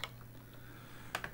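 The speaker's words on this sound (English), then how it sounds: "I'm not going to be typing anywhere nearly as quickly on this Coco keyboard." Keys tapped on a Color Computer (CoCo) keyboard, a few close, sparse clicks with a short burst of quick keystrokes near the end over a low steady hum.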